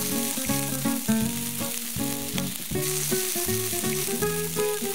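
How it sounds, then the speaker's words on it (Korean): Steady hissing sizzle of beef on a hot grill, continuous throughout, with tuneful music playing prominently over it. "지글지글 구워지는 소고기."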